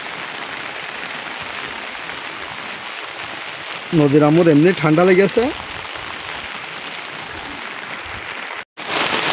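Heavy rain pours down in a steady dense hiss while someone talks briefly over it, with a short break near the end.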